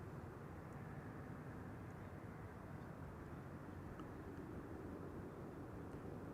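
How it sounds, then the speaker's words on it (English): EasyJet Airbus A320neo jet airliner arriving on approach at Amsterdam Schiphol, heard as a faint, distant, steady broadband roar with no talk. "EasyJet A320neo arriving from Gatwick in the foreground"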